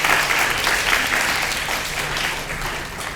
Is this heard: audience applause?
yes